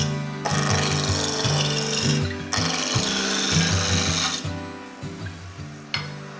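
Wooden spinning top blank being turned round on a lathe, a steady loud scraping and rasping cut with the motor's low hum beneath, broken by short pauses as the tool lifts off the spinning wood.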